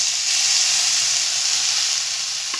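Tomatoes and coriander roast in an oily pan, giving a loud, even, unbroken sizzle with a faint tap near the end and no voices.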